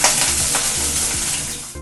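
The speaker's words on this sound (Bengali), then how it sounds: "এবার তেলের মধ্যে আমি ফুলকপিটা দিয়ে দিলাম। প্রথমে ফুলকপিটা ভেজে তুলে নেব।" Cauliflower florets fry in hot oil in a wok with a steady, loud sizzle, broken by rhythmic scraping and stirring strokes about every half second.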